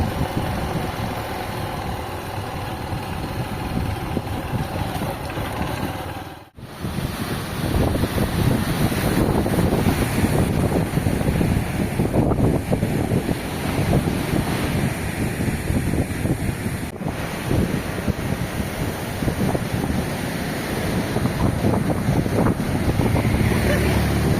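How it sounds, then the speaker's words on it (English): Strong habagat monsoon wind roars across the microphone over a constant rush of slamming waves, with a brief dropout early on. "The waves are slamming out here, but wind feels great."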